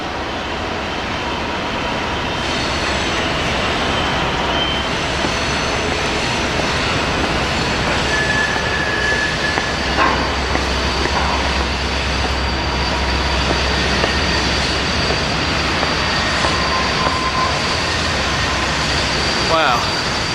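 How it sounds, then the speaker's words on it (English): Two trains pass each other going opposite ways on the Horseshoe Curve, making a continuous loud rumble of wheels and engines with faint squeals. People talk over the noise throughout. "There's 2 trains"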